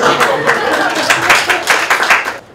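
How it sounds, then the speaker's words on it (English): Audience clapping at a literary festival session in Goa, lively and close-up, a steady burst of many hands lasting a couple of seconds before cutting off. "Let's clap at that question."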